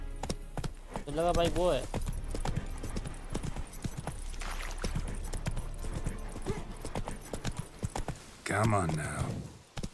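Hoofbeats of Roach, the horse in The Witcher 3: Wild Hunt, gallop in a steady clip-clop rhythm throughout, with a whinny near the end, while someone talks over them in Hindi and English.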